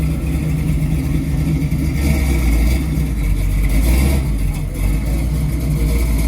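A 1977 Toyota Land Cruiser engine rumbles close by with a deep, throaty idle and brief rises in revs. Faint voices mix into the steady low drone.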